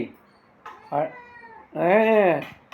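A cat meows up close, first a short call and then a longer, drawn-out meow, with a few quiet sounds in between.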